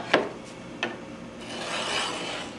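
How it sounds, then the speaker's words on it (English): A marking gauge scribes a line into curly maple, two short sharp scrapes followed by a longer, softer rasping rub, close and quiet. "take the marking gauge and scribe the bottom and top"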